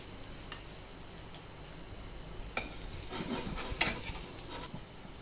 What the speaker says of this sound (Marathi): आपण आता दुसऱ्या बाजूने थालीपीठ भाजत आहे